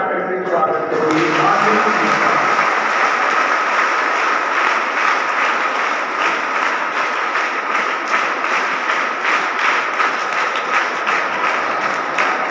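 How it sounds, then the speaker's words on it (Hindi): Audience applause at a Children's Day celebration, a dense, steady crowd clapping that swells in after a brief start and holds loud and continuous throughout. "इतना ताली बजाकर के स्वागत करोगे।"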